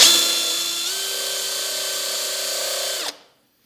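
A power drill bores a hole for an arbor press stand, whining at a steady, loud, close pitch for about three seconds before spinning down and stopping abruptly into silence.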